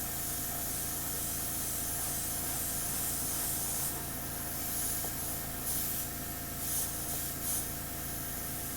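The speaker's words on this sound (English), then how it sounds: "So I'm just going to do an all-over spray here." Steady hiss of an airbrush spraying paint over Warhammer terrain, continuous and close, with slight swells in intensity toward the end.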